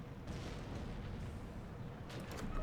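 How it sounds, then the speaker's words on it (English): MG42 machine gun fire in the Steel Division 2 war game, a steady wash of rumbling distant gunfire and battle noise with sharper rattling bursts near the end. "This MG42 has a range of 1500 meters and is engaging the infantry that's coming out of this tree line"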